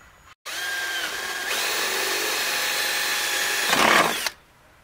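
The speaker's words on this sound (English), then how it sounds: "we're just gonna drill some like access holes in this" A power drill bores access holes in a part while a Polaris Ranger 800 engine is being removed and disassembled. The close, steady motor whine lasts several seconds, then rises into a louder grinding bite before cutting off abruptly.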